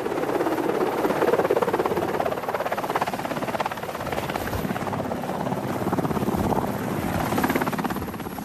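A helicopter's rotor thrums steadily and loudly throughout, a constant chopping drone with engine whine overhead.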